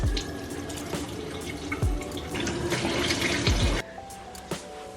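Water runs steadily from a sink tap during face washing with a gentle scrub, a continuous loud splashing stream that cuts off sharply near the end, leaving a few faint drips.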